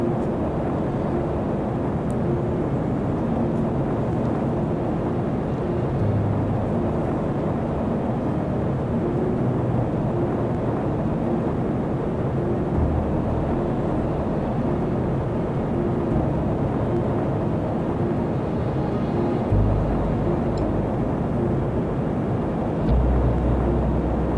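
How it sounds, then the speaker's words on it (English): Steady, loud engine drone from a B-29 Flying Fortress carrying a drop vehicle in Kerbal Space Program, with rumbling low-end surges near 6, 20 and 24 seconds as a rocket propulsion system ignites; continuous throughout with no talking. "Alexei Mantrov is dropped from the B-29 Flying Fortress and ignites his propulsion system"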